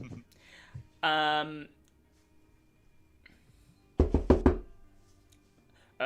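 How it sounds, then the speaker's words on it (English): A burst of four or five sharp knocks on a door, close and loud, comes after a short stretch of voices and a brief musical tone, then fades into near-silence. "You hear a knock on the door as you're woken up."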